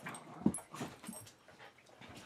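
Several dogs in a household pack playing roughly, with short whimpers, yips and panting mixed with brief barks, close by and busy throughout.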